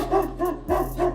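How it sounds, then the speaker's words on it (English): A trained service dog, sold as a diabetic alert dog, gives four rhythmic barks close to the microphone over a low steady hum. "This dog that barks in public, growls at people, has accidents in stores"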